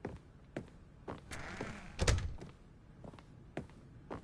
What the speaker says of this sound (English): I don't like him closing doors behind me